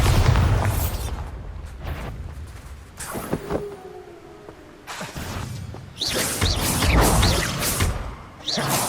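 Bombarda, Confringo and Accio spells fire in quick succession during a Hogwarts Legacy battle, giving loud booms, whooshing bursts and shattering crashes in separate clusters, with spoken voices in among the blasts.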